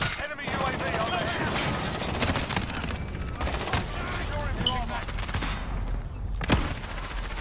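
Rapid gunfire and rocket launcher blasts from a video game battle crackle in dense, overlapping bursts, loud and continuous, with sharper booming hits scattered through the barrage.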